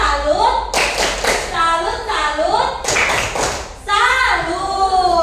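A classroom group of children performs the rhythmic Indonesian salute clap, tepuk salut, in two short bursts of clapping mixed with their chanting voices.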